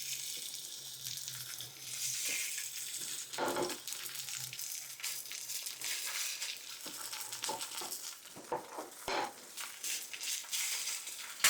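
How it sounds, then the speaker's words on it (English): Sausage sizzles in a hot skillet with avocado oil, a steady hiss of frying with occasional sharper crackles and pops, fairly soft and close. "Our skillet is nice and hot. I'm going to put a little bit of avocado oil. Put in our sausage,"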